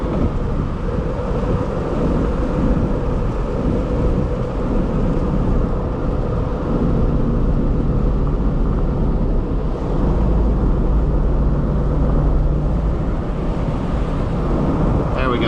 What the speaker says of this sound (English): So we're in first gear, second gear, third gear,